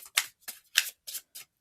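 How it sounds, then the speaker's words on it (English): Tarot cards printed on flexible, water-resistant-coated cardstock are shuffled by hand in five quick, crisp riffling bursts, close and fairly quiet, with no talking. "This is kind of how I shuffle"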